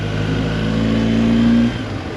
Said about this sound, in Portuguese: estou aqui a bordo de uma BMW GS 1250 Trophy.